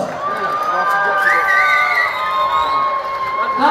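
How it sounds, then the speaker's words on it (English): A crowd at a live dance event cheers and shouts, with whoops and some clapping in a loud, continuous burst that swells and fades. "let's give yourself a round of applause!"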